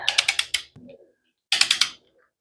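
A ratchet tool tightening bolts on a new motor, two quick bursts of sharp clicking ratchet strokes, each a rapid series of close metallic clicks separated by a short pause and a faint clunk.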